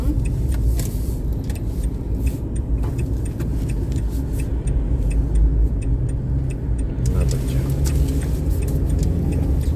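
A car speeds past on a road, its engine and tyre noise rising and falling close by in a steady loud rush without pause.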